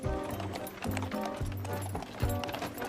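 Steady rhythmic clip-clop of a pregnant horse's hooves pulling a cart on a countryside road, continuous and moderately close, with a rolling background rumble.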